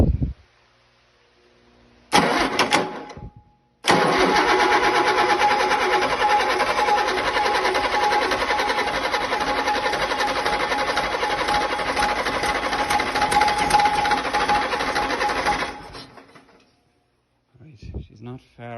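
A freshly rebuilt engine starts up and settles into a loud, steady, buzzing run for about twelve seconds, then cuts out. Brief noises come before and after it.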